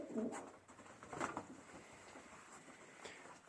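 Loft pigeons coo quietly in several soft, rolling bursts, faint and close by, over a low background hum with no one talking.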